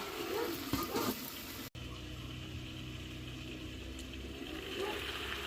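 Water running steadily into a cooking pot of cabbage, a continuous close hiss and splash that lasts throughout, with a brief dropout early on.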